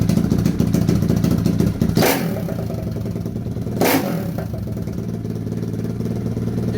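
A Lifan KP Mini 300 motorcycle with a ZS175FMN 4-valve engine and custom exhaust rumbles close by, with two sharp blips of revving breaking a steady, throbbing idle.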